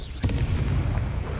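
A Confringo blasting spell detonates in the Hogwarts Legacy video game, a loud booming burst with sharp cracks over a dense, rumbling low roar of continuous battle noise.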